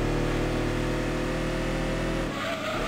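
A race car engine in the Gran Turismo 2 video game, in a historic car cup race, drones loudly at high revs, then its pitch drops near the end as it eases off.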